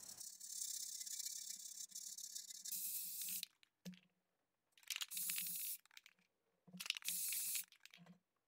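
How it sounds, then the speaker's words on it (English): Aerosol can spraying metallic antique brass paint inside a vase: a loud hissing burst lasting several seconds, then shorter separate sprays after pauses, with faint can rattles between. "So I spray painted the inside of the vase with metallic antique brass."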